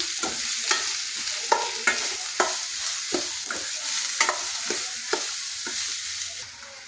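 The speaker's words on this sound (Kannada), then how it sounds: "ಇದು ಬ್ರೌನ್ ಕಲರ್ ಆಗುವವರೆಗೂ ನಾವು ಬಾಡಿಸಿಕೊಳ್ಳಬೇಕು." Onions frying in a pan until brown, a continuous close sizzle punctuated by regular scraping strokes of a spatula, roughly two every second, with no talking.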